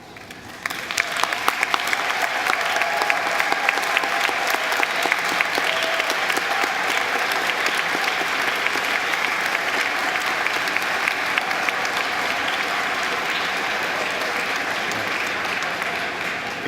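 A large audience at a 2019 business school diploma ceremony applauds honored graduate students, a dense, steady wash of clapping that starts quickly and holds at full strength for over fifteen seconds, broad and even with no voices standing out.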